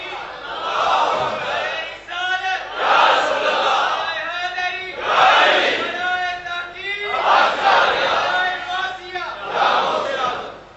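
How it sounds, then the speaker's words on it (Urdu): A large crowd at a Muharram religious gathering chants slogans in loud unison, with rhythmic call-and-response bursts repeating every couple of seconds throughout. "انج دے نعرے نہ لاؤ، یہ بڑے خطرناک نعرے نے۔"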